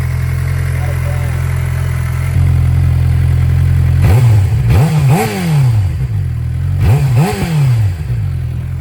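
A 2019 Suzuki GSX-R 600 with its stock exhaust idles, then revs sharply three times, each blip rising and falling quickly close to the microphone before settling back to a steady idle.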